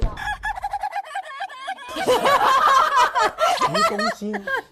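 A rooster crows loudly up close in a long drawn-out call, followed by a busier burst of crowing and clucking that fades at the end.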